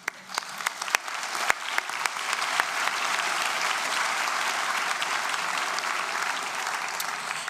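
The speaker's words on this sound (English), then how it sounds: "Please hold your applause until the end of the introductions." Sustained applause from a large audience at a spring university convocation ceremony, dense even clapping with a few sharp individual claps standing out at the start.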